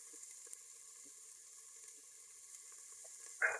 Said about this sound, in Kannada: ಹೆಚ್ಚಿರೋ ಈರುಳ್ಳಿ ಹಾಕ್ತಾ ಇದ್ದೀನಿ